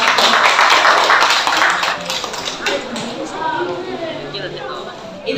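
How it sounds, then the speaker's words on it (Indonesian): Audience applause for a presenting group at a teaching workshop: dense, loud clapping at the start that thins and fades over about five seconds, with voices mixed in. "Beri tepuk tangan yang mulia"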